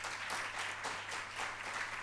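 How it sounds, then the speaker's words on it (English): A conference audience applauds the speakers after a panel session, a dense, even wash of clapping from many hands that holds steady for a couple of seconds. "A round of applause for our speakers, please."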